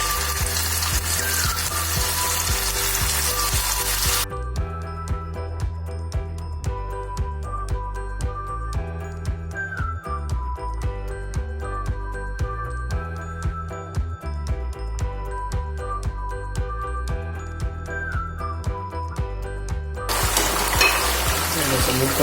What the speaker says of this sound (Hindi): फ्राई पैन में तेल काफी अच्छा गर्म हो गया, तो मैं अब चिकन को पहले तलने वाला हूँ।